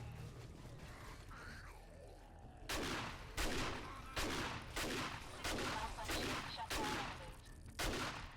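Automated turrets in the zombie survival game 7 Days to Die fire in repeated sharp bursts, about seven loud crackling volleys spaced roughly half a second apart, following a quieter stretch of faint game ambience.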